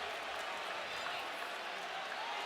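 A basketball arena crowd murmurs and reacts steadily at a distance, a dense even wash of noise without distinct peaks, with commentary voices faintly in the mix.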